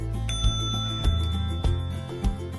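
A Gama bike's bicycle bell rings in four bright metallic dings spaced roughly evenly apart, close and fairly loud, with no talking.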